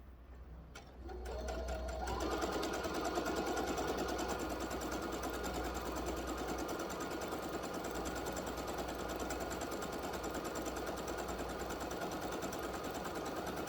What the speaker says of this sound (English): And then we're going to continue to sew all the way around.